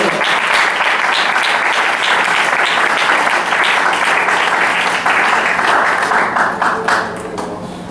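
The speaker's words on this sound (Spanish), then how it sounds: "Den el aplauso." A congregation applauds during a Spanish-language sermon: loud, dense clapping fills the room and continues steadily before thinning and fading near the end, with a faint voice underneath.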